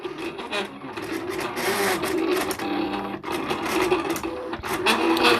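A Silhouette Cameo 3 cuts heat transfer vinyl for T-shirt decals, giving a steady, close mechanical whir with rasping, scraping texture that runs continuously with small shifts in pitch.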